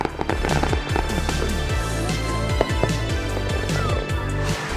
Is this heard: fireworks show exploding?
yes